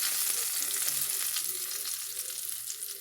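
Hot oil tempering (tadka) is poured into mung bean dal, sizzling and crackling loudly and steadily, a close, bright frying hiss with no talking.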